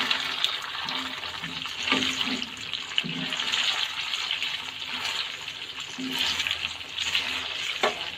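Boiled mutton frying in a pan over high heat, a steady close hiss and sizzle with occasional stirring scrapes running throughout, no voices.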